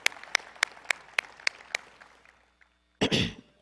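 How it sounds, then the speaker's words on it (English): A ballroom audience at a business summit gives another round of applause for the panelists after a fireside chat on luxury travel: a thin run of distinct single claps that fades out, then a short loud cough-like burst after a pause. "let's give another round of applause for PJKev, Aaron, and Selena"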